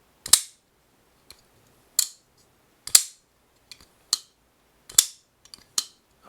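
Sharp metallic clicks and snaps of a Holt Bladeworks Specter Prestige pocketknife blade opening and locking, several separate crisp clicks spaced irregularly with silence between.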